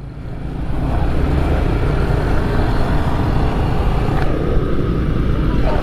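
Motorcycle on a touring ride, with a steady loud engine roar and heavy wind rumble that build up after the first second, continuous and close throughout.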